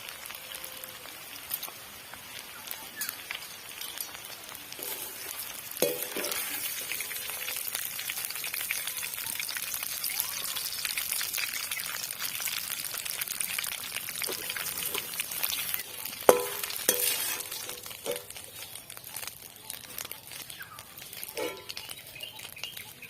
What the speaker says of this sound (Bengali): দেখুন ফুলকপিগুলো কিন্তু লাল লাল করে ভাজা হয়ে গেছে